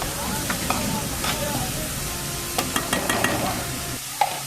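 Onions fry in oil in a pan with a steady sizzle, punctuated by several sharp clicks and scrapes of stirring, close by with no talking.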